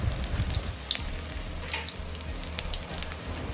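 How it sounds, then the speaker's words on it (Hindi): Onion pakodas fry in hot oil over a medium flame, giving a soft, even bubbling sizzle close by with faint crackles and no voices. "ऑयल के गरम होते ही हम उसमें अपने पकौड़े फ्राई कर लेंगे।"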